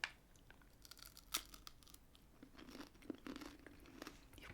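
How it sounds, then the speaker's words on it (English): Crisp crunching bites into a chocolate caramel biscuit, a few sharp close cracks with quieter crumbly chewing between them, soft and intimate against a near-silent background. "You've got the crisp crunch,"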